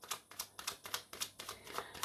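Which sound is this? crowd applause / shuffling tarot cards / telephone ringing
shuffling tarot cards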